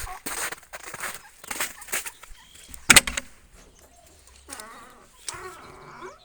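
Turkeys on a farm during morning feeding, sporadic clucks and short fowl calls at moderate distance between quiet gaps, with a few sharp knocks and rustles.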